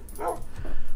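A dog in the video game Minecraft gives a short, close whimper followed by a brief yip, all within a second, with no talk.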